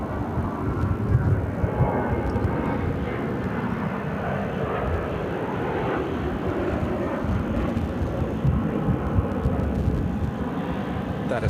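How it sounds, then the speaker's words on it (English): Southwest Airlines jet bound for Buffalo at Phoenix airport, a continuous loud low engine roar with broadband rushing noise, steady and fairly close, mixed with wind. "That is Southwest Airlines Flight 2268 headed to Buffalo."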